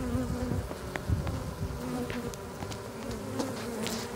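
Honey bees fan inside a hive that holds a newly introduced queen, making a close, steady, dense buzzing drone that holds evenly throughout with no break.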